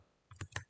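Three quick keyboard key presses for a Ctrl Shift I shortcut, close and crisp, in near silence.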